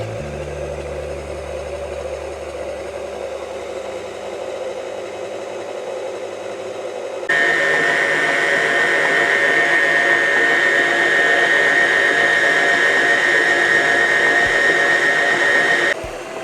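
An electric mixer works artisan bread dough, running with a steady whir that jumps to a louder, higher-pitched whine about halfway through and holds there before cutting off.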